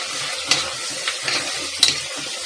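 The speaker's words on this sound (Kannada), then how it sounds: "ಜಿಂಜರ್ ಗಾರ್ಲಿಕ್ ಪೇಸ್ಟ್ ಹಾಕಿ ಆದಮೇಲೆ ಈ ಥರ ಮಿಕ್ಸ್ ಮಾಡ್ತಾ ಇರಬೇಕು" Ginger garlic paste being stirred in a frying pan, a soft steady sizzle with a few sharper scrapes of the spoon against the pan, close and alone with no voices.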